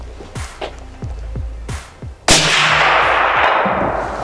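A Sauer 100 rifle fitted with a suppressor fires at a target 300 m away, giving a few soft thumping shots and then one sharp loud report that rings and decays in outdoor ambience.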